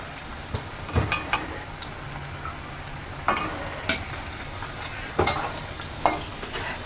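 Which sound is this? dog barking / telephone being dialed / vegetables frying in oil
vegetables frying in oil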